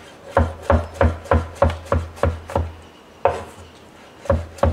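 A knife chops American celery on a cutting board in close, steady strokes: about eight crisp, evenly spaced cuts, a short pause, then a few more. There is no talking.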